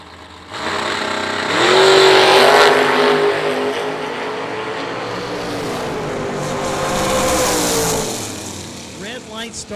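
A Nova and a wired-up 1969 Camaro launch side by side at an IHRA drag race, engines roaring loud and close as they rev and pull hard down the strip, then the roar fades off into the distance.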